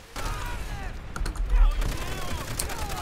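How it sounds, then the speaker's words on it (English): Gunfire in the World War II shooter Call of Duty: World at War, with rapid clattering shots and bursts over a dense battle din, a voice talking over it. "That man was firing before he was even looking at me."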